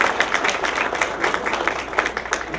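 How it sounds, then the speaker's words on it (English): Audience applause fills the room in a steady, dense patter of many hands clapping, moderately loud and continuous throughout with no talking over it. "Can we get a round of applause for Joe?"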